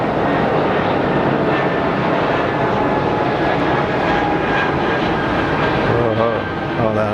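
Airliner engine roaring at Geneva Airport, a loud, steady broadband rumble and whine that holds throughout with little change.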